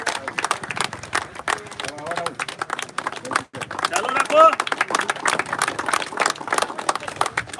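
A crowd applauds at a cricket final trophy ceremony in Surendranagar, bursts of clapping running under a loud announcer's voice, with a brief pause midway before the applause swells again.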